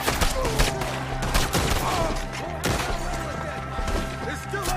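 Repeated gunshots ring out in Red Dead Redemption 2 as shooters fire at enemies perched up in trees, a rapid, uneven string of loud cracks and thuds over a background score, with voices now and then.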